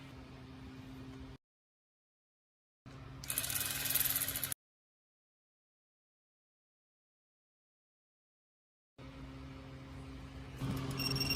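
Wrench tightening timing cover bolts on a 2013 Range Rover L405 Supercharged, with two bursts of rapid ratchet clicking separated by long silences, close and fairly quiet.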